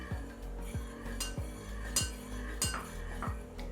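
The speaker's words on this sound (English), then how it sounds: "give it a little stir" A spoon clinks against a bowl while stirring a thick edible Halloween prank mixture, a series of light, regular taps and scrapes, close and fairly quiet.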